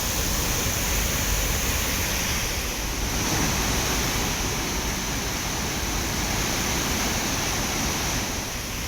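A loud, continuous roar of rushing water fills the whole clip, broad and steady like a heavy waterfall in flood, with wind-like rumble, at Manimuthar falls.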